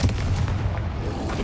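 Confringo explosive spell cast in the Hogwarts Legacy video game, a booming blast with a dense low rumble and crackling burst that stays loud across the short moment.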